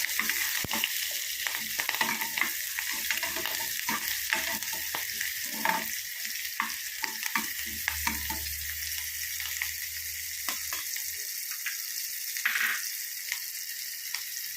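Curry leaves and vegetables fry in a pan while being stirred, a continuous close sizzle broken by repeated spoon scrapes and knocks, with no one speaking.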